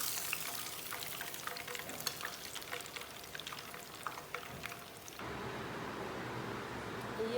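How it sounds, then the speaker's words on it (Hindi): Masala fish frying in oil in a pan, a quiet steady crackling sizzle with scattered pops, shifting to a smoother hiss near the end, no speech. "हमने ज़्यादा इसलिए फ्राई की है कि अंदर से कच्ची ना रहे"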